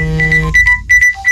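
Phone full-battery charging alarm ringtone, a brief loud electronic melody of short beeping tones in quick succession, alone.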